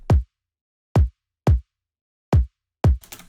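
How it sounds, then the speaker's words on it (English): Five punchy electronic kick drum hits from a drum and bass track, with deep booming low end, spaced irregularly with silence between, followed by a brief bit of noise. "The kick drum sounds like this, by the way."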